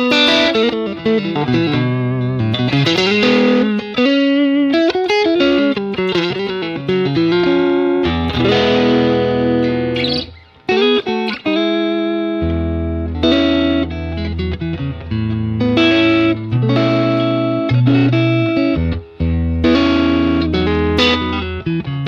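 Electric guitar played through a Warm Audio Warm Drive overdrive pedal into a slightly driven amp, a continuous stretch of loud, distorted chords and riffs with a brief pause midway and no talking.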